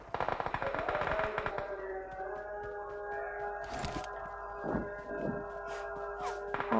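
Gunfire in a video game, a rapid automatic burst of shots at the start that gives way to sustained tonal ringing and a few scattered later shots, loud and close with no talk.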